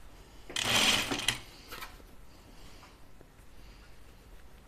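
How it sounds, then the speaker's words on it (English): A sewing machine stitches dress fabric in one short loud whirring burst, followed by a few faint clicks and handling noises, close by and without talk. "I need to sew from the right side of the fabric"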